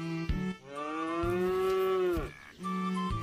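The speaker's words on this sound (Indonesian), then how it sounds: "ini ada induk sapi perah" A dairy cow gives one long, loud, drawn-out moo that rises and fades. Brief lower lowing sounds come just before and after it.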